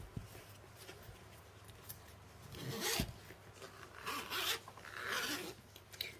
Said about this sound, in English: And she zips up beautifully.